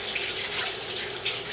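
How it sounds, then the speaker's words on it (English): Water runs from a sink tap as hands are washed during bread baking, a steady close hiss throughout the short moment. "Wash my hands"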